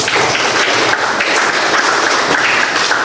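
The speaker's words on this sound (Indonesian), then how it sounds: "Silakan tepuk tangan." Classroom applause from a group of students, a steady dense patter of many hands clapping at once, loud and close throughout with no break.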